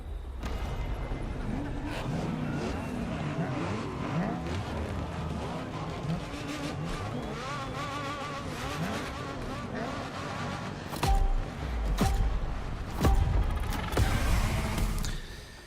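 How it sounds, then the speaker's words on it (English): Mazda RX-7, a classic car, driving in the racing game The Crew: Motorfest, its engine droning steadily with rising and falling revs under background music, swelling louder near the end. "we're doing the RX-7. It's a classic vehicle."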